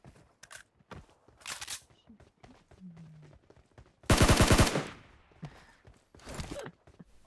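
Gunfire in the video game PUBG Mobile: scattered single shots, then a loud, sustained automatic burst midway, followed by another short burst, with footstep-like clicks between.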